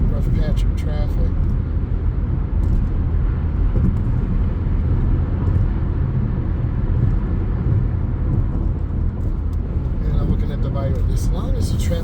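A car driving at highway speed after stop-and-go traffic, cruising around 70 with a steady, loud low road and engine rumble throughout and no pauses.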